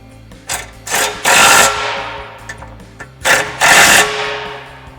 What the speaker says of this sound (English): Tighten down our bottom bolts with our 13mm socket on our impact.